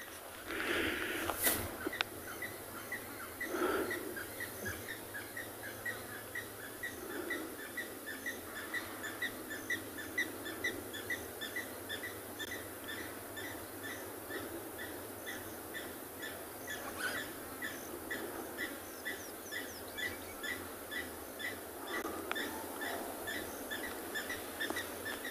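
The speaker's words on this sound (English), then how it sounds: "let's just listen to the different sounds of birds in the background" Mixed birdsong carries faintly across a waterhole at sunset, with scattered chirps and calls repeating through a steady hum of background noise and no talking.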